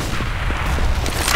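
A flashbang grenade going off in CS:GO amid sustained rumbling and gunfire, loud and close for a brief moment with almost no talk.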